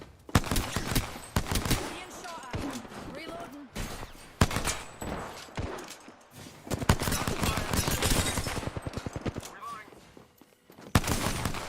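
Gunfire in a battle royale video game, with rapid bursts and single shots layered over continuous game effects and a voice talking throughout.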